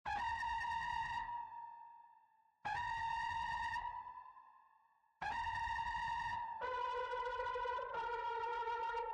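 A synth lead plays a simple pattern through distortion, reverb and delay: three bright held notes with echoing tails, the last one splitting into a lower pair of tones, loud and alone.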